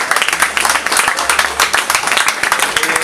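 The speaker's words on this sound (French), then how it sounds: "on peut les applaudir" Audience at a support concert for Ford factory workers applauds the technical crew, steady dense clapping that is loud and fairly close with a few voices mixed in.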